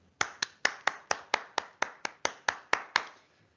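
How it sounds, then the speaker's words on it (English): Clapping at a GPCC awards night: about thirteen sharp, evenly spaced handclaps in a steady beat, close and clear, with no talk and a quiet tail at the end. "Hands up those who clapped along with me"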